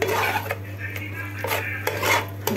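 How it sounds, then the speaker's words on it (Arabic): A spoon stirs a mixture with salt and a spoonful of bicarbonate in a bowl, scraping and clinking against the sides in a steady rhythm, close and moderately loud, over a low steady hum. "نقلب كل كده."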